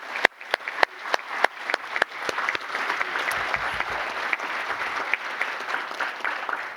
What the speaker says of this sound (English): So can we get a round of applause for Donna Llewellyn?